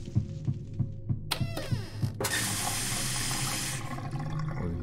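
In the video game Mr Hopps Playhouse 2, water is fetched from a tap to put out a house fire. A few soft thuds come first, then a sharp gush gives way to steady running water that fills the rest.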